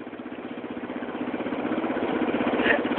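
A small motorbike engine idling close by with a steady rapid chugging putter that gradually grows louder, with no talk.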